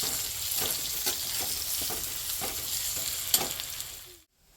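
Green beans for a Kerala upperi stir-fry sizzle steadily in a pan, with a few soft stirring scrapes through the constant frying hiss, which cuts off abruptly at the end.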